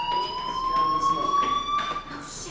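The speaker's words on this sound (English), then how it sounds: "Hey, do you hear that fire alarm?" A fire alarm in the video game Life is Strange rings with a steady high electronic tone, continuous and moderately loud, with faint room noise underneath.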